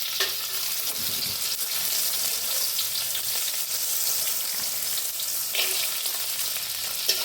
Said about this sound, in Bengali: ছোলাগুলো একটু নাড়াচাড়া করে নিচ্ছি।